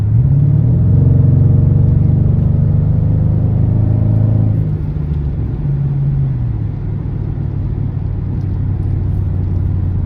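A Pontiac G8 GT's engine runs after a starter replacement, a loud, close, steady rumble with a fluctuating drone in the first half that settles into an even idle.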